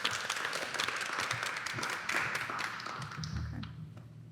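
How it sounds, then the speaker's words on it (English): Audience applause at a municipal election candidate forum, a dense, steady wash of clapping from many people that gradually thins and fades near the end. "Let's give our candidates a round of applause"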